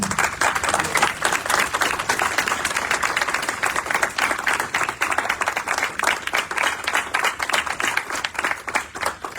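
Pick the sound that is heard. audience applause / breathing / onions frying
audience applause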